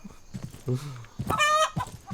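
Chickens clucking and a rooster-like call on a farm in Estate Agent Simulator, several short bursts of fowl calls at close range with a brief sustained crowing-like phrase, no talk.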